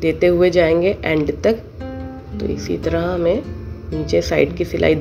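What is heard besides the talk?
No everyday noise stands out behind the speech.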